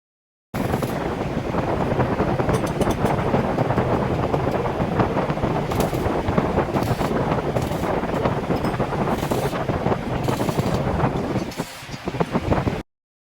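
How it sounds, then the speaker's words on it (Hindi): A homemade spray machine with an HTP pressure pump and a generator runs continuously, a loud, even, hissing roar that stays constant from start to finish with no talking. "आगे पंप है जो पानी को खींचता है प्रेशर के साथ।"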